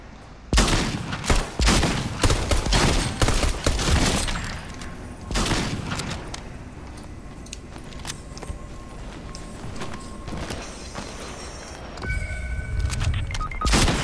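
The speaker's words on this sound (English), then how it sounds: "Someone else is shooting me." Gunfire from an online shooter game: loud clusters of rapid shots and thunking impacts early on, then a steadier spread of quieter distant shots and mechanical clicks, with a renewed burst near the end.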